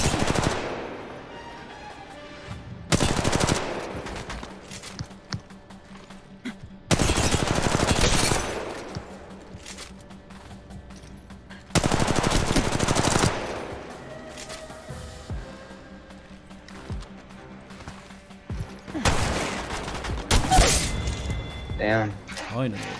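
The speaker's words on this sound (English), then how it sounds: "That was a hard shotgun shot." Shotgun fire in the video game Apex Legends Mobile comes as four loud, dense bursts of blasts spaced several seconds apart, with quieter game sounds and a low hum filling the gaps between them.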